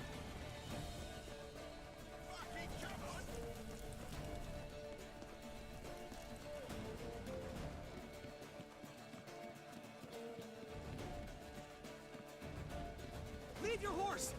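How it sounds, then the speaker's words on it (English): Horses gallop in The Witcher 3, a steady drumming of hooves under game music, shouting and spoken voices. The sound rises and falls as the riders move. "That's a lot of horses."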